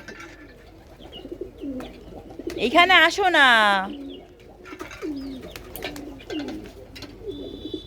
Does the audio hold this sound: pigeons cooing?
yes